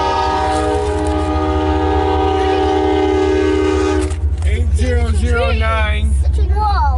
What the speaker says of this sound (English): Whoa. Oh, big train.